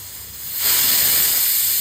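A pressure cooker boiling corn in water lets out a loud steam whistle that begins as a soft hiss and swells into a sustained, bright, close jet of steam.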